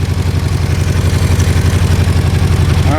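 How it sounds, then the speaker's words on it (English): A 1978 Honda Hawk II 400cc motorcycle idles loud and close after fresh oil and new clutch plates, its engine thrumming with a steady, even pulse and a light clatter. "The engine sounds a lot better than it did too."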